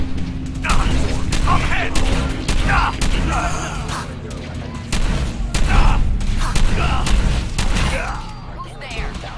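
Gunfire in the Fallout 4 video game, rapid sharp shots and bursts with thuds and mechanical clanks, loud and close, mixed with game voices shouting.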